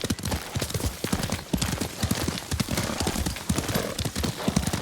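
Rapid clip-clop of a galloping horse in the video game Ghost of Tsushima, loud and close, with a steady driving rhythm and a brief whinny mixed in.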